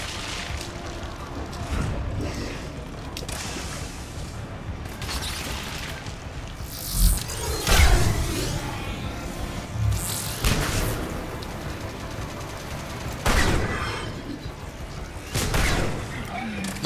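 Gunfire and a concussive shot from the shooter game Mass Effect 3: repeated loud booming blasts and shot bursts over dense combat noise, with strong impacts around the middle and end.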